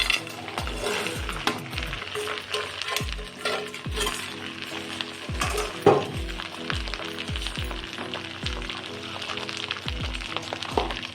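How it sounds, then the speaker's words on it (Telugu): Ginger paste and chicken pieces fry steadily in hot oil, a close, continuous sizzle broken by repeated soft scraping strokes of stirring throughout. "అల్లం పేస్ట్ ఫ్రై అయిపోయింది కదా, దీంట్లో కింద ఫ్రై చేసేసుకున్నాం, ముక్కలు వేసేసుకున్నాం."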